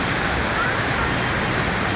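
Heavy rain falling in Mettupalayam, Coimbatore district, with water pooling on the roads. It makes a dense, loud, unbroken hiss of downpour that stays constant from start to finish.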